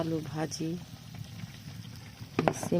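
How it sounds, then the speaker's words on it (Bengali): Pabda fish bhuna with tomato simmering in a pan gives a soft, low bubbling hiss in the background, partly covered by someone talking nearby. "আজকে আমাদের পাবদা মাছ ভুনা করা হবে। ভুনা বসিয়ে দিয়েছি"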